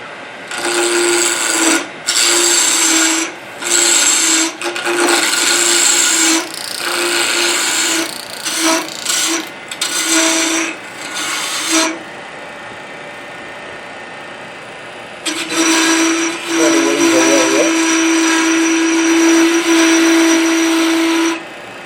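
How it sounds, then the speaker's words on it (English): Wood turning on a lathe with a small round skew chisel during a club demonstration: the spinning lathe hums steadily while the chisel cuts in repeated bursts of rasping, hissing noise, broken by short pauses and a longer stop before cutting resumes. "This is just a little round skew."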